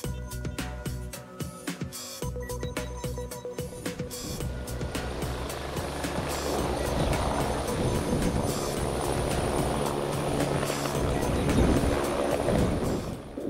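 Algerian police helicopter heard as a steady, loud rotor and engine roar that builds and stays close throughout, with no talking over it.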